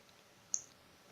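A single sharp mouse click on the plus button in a MikroTik router settings screen, isolated and faint against a quiet background.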